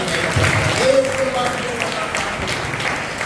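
Church congregation clapping during a sermon, a diffuse patter of applause beneath a voice that rises and holds briefly, moderately loud and steady.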